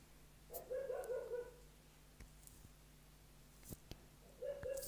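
A couple of dogs bark in brief bursts at moderate distance, with a pause of faint clicks and thumps between the first and last volleys.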